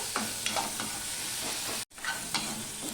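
Onions sizzling steadily in a pan, with a few stirring scrapes and a brief break in the sound near the end; no talking.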